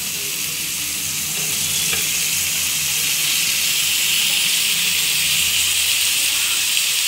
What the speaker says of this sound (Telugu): దీంట్లో ఇప్పుడు మనం మటన్ వేసుకోవాలి.